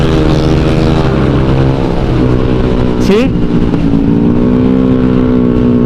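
A motorcycle engine holds high revs near 11,500 RPM, a loud sustained buzzing whine that dips and climbs again partway through, while a rider talks briefly over it.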